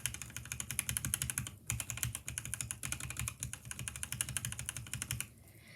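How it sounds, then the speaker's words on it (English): Fingers type quickly on a keyboard fitted with lubed Akko Jelly black switches, making a close, dense run of muted, even clacks that pauses once briefly and then stops near the end. "Lubed Akko Jelly black switches."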